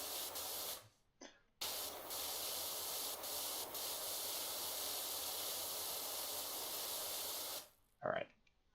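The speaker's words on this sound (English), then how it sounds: "Let me just spray the trim here." Pressure washer in PowerWash Simulator 2 sprays trim with a steady, close broadband hiss lasting several seconds, briefly cutting out near the start and stopping before a short final burst.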